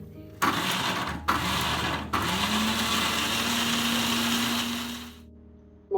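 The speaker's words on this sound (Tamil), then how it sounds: "தேங்காய் அரைச்சிக்கணும்." Mixer grinder blending coconut for coconut milk runs in short bursts, then a longer steady whirring grind before stopping, loud and close with no talking.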